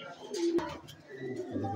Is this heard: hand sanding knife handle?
no